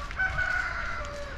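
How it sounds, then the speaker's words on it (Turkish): Free-roaming chickens in a green Black Sea coastal area near Tirebolu, with a rooster's crow standing out at moderate distance over clucking and faint outdoor ambience. "Gezen tavuklar. Tam şurada."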